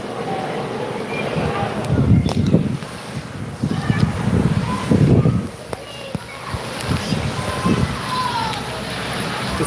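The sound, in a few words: strong wind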